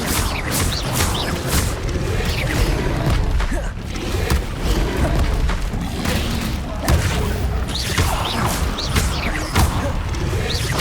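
Expelliarmus spell cast repeatedly in Hogwarts Legacy combat, a series of sharp whooshing zaps and thuds in quick irregular succession over busy game effects and music.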